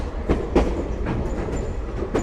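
Lehigh Gorge Scenic Railway train with an old caboose and gondola cars rolls along the line, wheels clacking in loud periodic beats over a steady rumble, with no talking.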